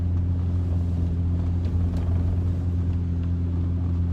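A car on an icy road in Jackson, Mississippi, heard from inside the cabin as a steady low engine drone and road rumble, loud and continuous, with no talking.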